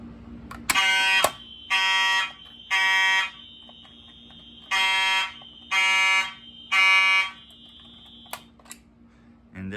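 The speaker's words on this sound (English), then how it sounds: "So this is gonna be a quick alarm, but gonna set it off." An STI Global ReSet fire alarm call point sounds six loud, even electronic tone bursts of about a second each, with a longer gap after the third, over a low background hum and a few sharp clicks.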